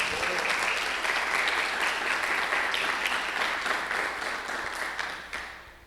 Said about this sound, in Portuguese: Tu pode aplaudir o Senhor por causa disso?